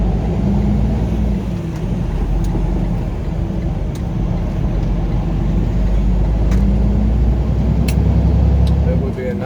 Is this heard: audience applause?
no